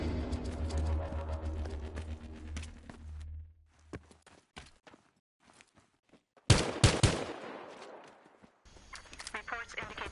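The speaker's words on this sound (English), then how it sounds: "Reports indicate indiscriminate gunfire and no seeming purpose to the carnage." Bursts of rapid gunfire in a video game, loud clustered shots early on, then scattered sharp single cracks and a second heavy volley, with quieter stretches in between.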